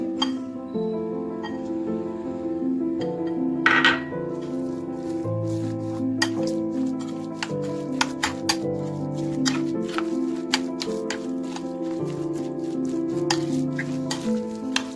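An egg mixture is stirred in a bowl, giving steady, close scraping with scattered light clinks that continue throughout over a constant tonal hum.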